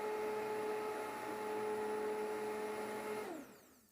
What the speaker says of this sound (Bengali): এখন দিয়ে আমি একসাথে সব কিছু ব্লেন্ড করে নেব